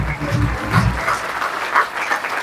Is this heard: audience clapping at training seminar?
yes